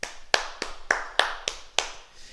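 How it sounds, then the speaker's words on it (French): A small group in a martial movement class claps in unison, six sharp, evenly spaced claps in a steady rhythm, fairly close and quiet overall, with no talk. "Le premier mouvement réussi, on s'applaudit."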